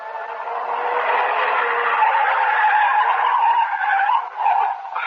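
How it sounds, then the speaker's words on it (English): Car careening and skidding in circles as a radio drama sound effect, a loud sustained tire squeal that wavers and swells for several seconds, close and alone. "the car began to circle wildly"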